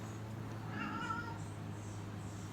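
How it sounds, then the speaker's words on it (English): Pet cat giving one short, faint meow indoors against a quiet room hum, with no speech. "If you guys hear any noise, that's probably my cat Rosie. She's very talkative"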